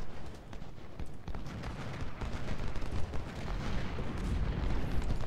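Cannon and artillery fire in a Civil War battle at Shiloh in Ultimate General: Civil War, a continuous dense rumble of booming shots and rolling gunfire, steady and loud with no talk.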